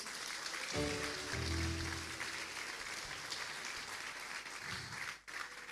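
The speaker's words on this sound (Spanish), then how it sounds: "Dele un poderoso aplauso a Jesús." Church congregation applauding loudly during a Spanish-language service, a sustained dense wash of clapping with a brief tonal organ or keyboard note under it and a short dip near the end.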